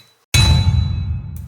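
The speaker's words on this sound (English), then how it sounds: "his head bounces off the metal gurney or the table that she's laying on" A head bouncing off a metal gurney: one loud, close metallic clang with a ringing tone after a moment of silence, followed by a faint second tap near the end.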